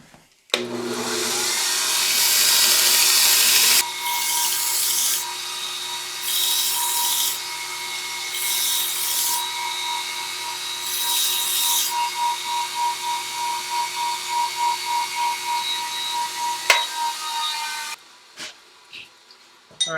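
A hand-held air hardening steel tool cuts through a silver fork on a blacksmith's cutting table, a steady high whine running for several seconds and then pulsing in rapid repeated bursts before stopping, close and loud with no talk.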